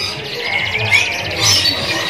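An F1 panda-coloured canary singing at a bird kiosk, a rapid, high, trilling warble with quick chirps and sharp whistled notes, fairly close over a light background murmur.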